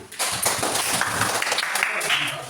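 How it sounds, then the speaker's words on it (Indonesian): A school class claps their hands together in a lesson setting, a dense burst of applause lasting throughout, with voices mixed in. "Ya, tepuk tangan semuanya."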